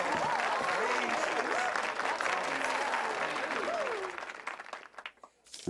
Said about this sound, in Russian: выдайте аплодисменты планетарных масштабов для Аякса